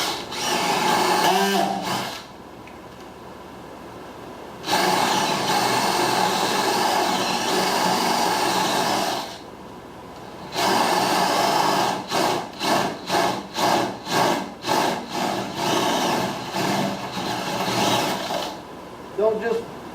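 A power drill bores through wood inside a DIY 5x10 teardrop camper, with long steady whirring runs broken by pauses and a stretch of short, rhythmic bursts of the motor near the end; a voice speaks briefly in a gap.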